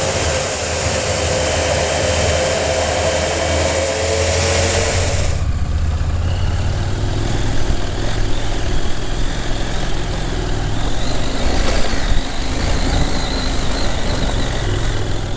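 A 2021 KTM 890 Adventure R twin-cylinder engine pulls hard along straights, loud and close with a continuous roar. It shifts character partway through as the revs change, and wind noise runs steadily throughout.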